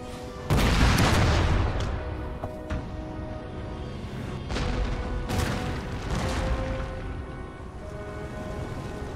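Heavy booming cannon blasts from the video game Napoleon: Total War, starting loud and recurring in bursts over a continuous rumbling din of battle.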